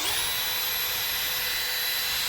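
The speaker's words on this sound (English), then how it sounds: "we'll pre-drill them so we don't split it out." A power drill whines steadily at high speed while pre-drilling screw holes in wood, close and loud, a single continuous burst with no pauses.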